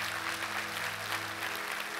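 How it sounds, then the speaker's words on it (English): Church congregation at a Sunday service hand clapping in a steady, even burst of applause, with a low hum running beneath it. "Will you give a hand clap to the people that prayed that prayer?"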